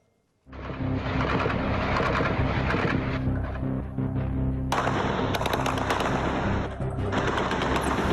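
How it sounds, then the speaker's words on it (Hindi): Sustained bursts of rapid gunfire rattle through a street clash between police and gang members in Caracas, dense and continuous for several seconds, with a louder surge midway and echoing reports. "सुरक्षा बलों और गिरोह के सदस्यों के बीच ताबड़तोड़ फायरिंग हो रही है"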